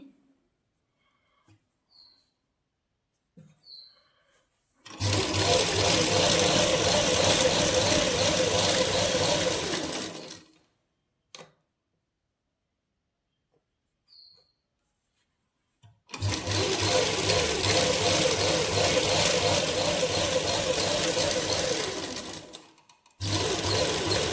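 Sewing machine stitching a lined salwar seam runs in two long continuous bursts of steady, loud whirring, separated by quiet pauses with small handling clicks.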